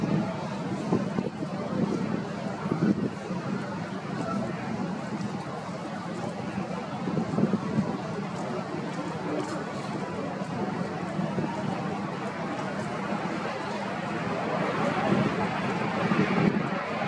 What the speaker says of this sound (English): See what I mean? It's really windy.